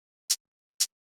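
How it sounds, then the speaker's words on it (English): Two crisp, short hi-hat hits from a sampled electronic dance beat, evenly spaced about half a second apart, bright and dry with nothing else sounding between them. "the next thing that we have here is this hi-hat"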